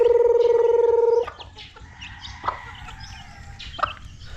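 A hen gives a long, loud, drawn-out cluck up close, followed by a few short, softer clucks and faint farmyard noise.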